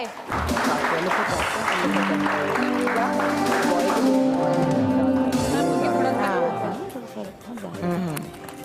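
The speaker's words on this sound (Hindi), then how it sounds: "आइए जी आंटी, बहुत सारी तालियां आंटी के लिए।" An audience on a television show applauds, a sustained wash of clapping mixed with loud voices and other sound, easing off near the end.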